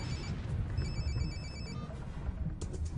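A telephone ringing in a Moscow park scene from 1994, a repeated electronic ring tone heard clearly over a steady low rumble of background noise, with no one talking.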